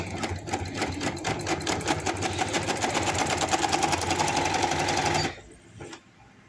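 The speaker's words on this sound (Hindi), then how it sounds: "मैं इसे खींचती जाऊंगी और सिलाई लगाती जाऊंगी।" A sewing machine stitching the center seam of a baby boy's short pants runs in a fast, steady close rattle for about five seconds, then stops, leaving faint handling noise.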